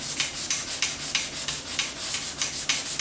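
Steady back-and-forth hand sanding of body filler on a Ford Flex bumper cover, a rhythmic scratchy rasp repeating several times a second, close up and fairly loud with no talking.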